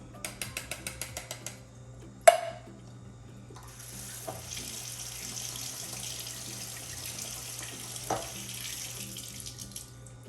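Water from a kitchen tap runs steadily while rinsing and draining ingredients, with a sharp clatter near the start and a few knocks as the stream continues under soft mechanical clicking at the outset.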